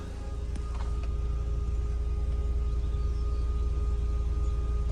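A repaired Audi TT engine idles with steady revs after an overboost fix, a continuous low rumble holding even and unbroken throughout with no speech.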